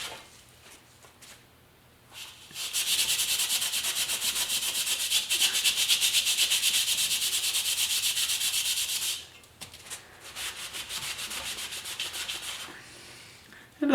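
By hand, a cloth rubs chrome polish onto the chrome wheel of a 1974 Yamaha RS100 motorcycle, a close, steady hissing scrub that holds for several seconds, stops, then resumes more faintly.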